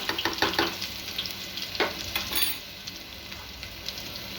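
Garlic paste hitting hot oil in a pan with mustard seeds and cumin, giving a steady bright sizzle and crackle with some spattering pops, close and continuous.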